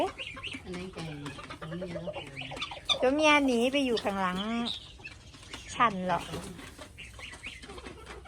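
Hungry guinea fowl make repeated harsh, rising and falling calls near at hand, loudest in a strained middle stretch, with intermittent human talk in between.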